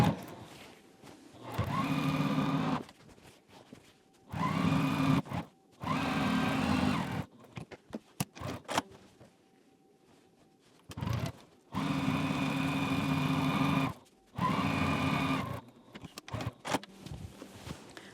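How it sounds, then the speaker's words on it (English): A sewing machine stitching a pillow runs in several steady bursts of whirring, rapid needle chatter, each lasting a couple of seconds, with short pauses and light handling noises between them, close and fairly loud. "when you're sewing, just make sure your pillow backing doesn't catch on your table"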